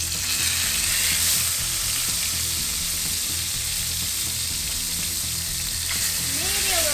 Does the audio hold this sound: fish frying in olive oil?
yes